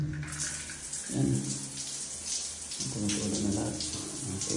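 Water running from a shower head while the plumbing is tested after setting a bladder-type pressure tank, a steady rushing spray with surges around the middle, close by and without speech.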